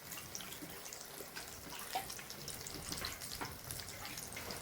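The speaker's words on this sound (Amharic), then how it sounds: "የጋለ ዘይት ላይ ይሄው እንደዚህ ቁጭ ቁጭ እናደርጋቸዋለን።" Lentil patties coated in breadcrumbs frying in hot oil, a faint, steady crackle and bubbling with small pops scattered throughout.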